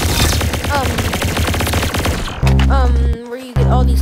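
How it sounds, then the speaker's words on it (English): Rapid laser gunfire in the Roblox-style shooter game Arsenal rattles loudly in a fast stream, then breaks into shorter bursts with a few tonal zaps. "Stop shooting at me. Pew, pew, pew, pew, pew, pew, pew. He's pewing at me."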